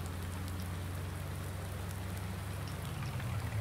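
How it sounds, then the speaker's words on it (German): Steady rainfall in Landwirtschafts Simulator 19 on PS4, an even hiss of drops over a constant low hum, continuing unbroken with no voices. "Es regnet"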